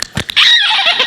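A person's voice imitates a horse, giving a loud, brief whinnying neigh that follows a few short breathy puffs, on a comedy show stage.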